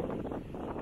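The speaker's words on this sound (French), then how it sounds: "Il y a du vent, on fait de la voile" Steady wind buffeting the microphone aboard a sailboat on the coast off Menton, France, a low continuous rumbling roar with no other sounds.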